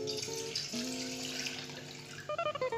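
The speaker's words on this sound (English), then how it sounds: "So the first step you need to do is pour the water into the bowl." Water poured from a cup into a bowl, a steady splashing flow that ends with a few short drips and trickles near the finish, close by with no talk.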